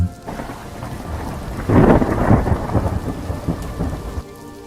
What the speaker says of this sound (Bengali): জল এত বেশি আর বৃষ্টিও এত জোরে পড়ছে